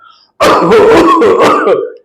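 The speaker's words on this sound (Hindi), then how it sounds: "इस तरीके की खांसी हो रही है लेकिन खांसी के साथ बिल्कुल भी कफ निकल के नहीं आ रहा है।" One harsh, throaty dry cough, close and loud, lasting under two seconds, rasping and unproductive with a strained, gravelly quality.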